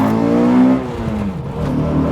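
A modified Honda Accord Type S wagon engine pulls hard under acceleration, a loud close drone with a rising tone that dips briefly as if through a gear change, then keeps climbing.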